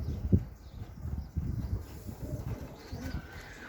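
Soft pigeons cooing at night, low hollow calls at moderate distance with faint rustling and background noise, no talking.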